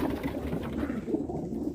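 Low, rolling coos come from teddy golden and dab pigeons kept in Amritsar, Punjab, several birds murmuring steadily and close by with no voices.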